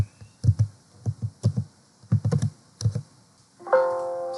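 Close, distinct keystrokes tap out on a computer keyboard in short irregular bursts, then a bright electronic tone sounds near the end.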